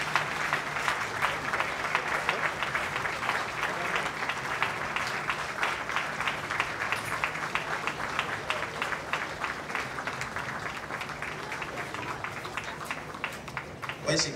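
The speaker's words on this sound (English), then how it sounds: "Please give her a round of applause." Steady audience applause fills a praise and worship night gathering, dense continuous clapping from a sizeable crowd that holds at an even level throughout without pause.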